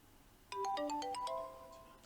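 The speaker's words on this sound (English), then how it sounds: "So the line is ringing" A phone ringtone playing through a handset, a quick run of bright electronic notes that rises and then fades, clear against a quiet background with no talk.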